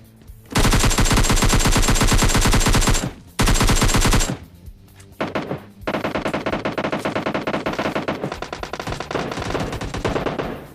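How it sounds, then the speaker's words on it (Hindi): Loud sustained automatic gunfire from several guns in a battle royale game, with two long rapid bursts broken by a short gap, then a quieter, slightly uneven stream of shots that continues to the end. "अब आप लोगों ने सुना ना क्या ही कमाल की गन शॉट्स की आवाज आ रही है"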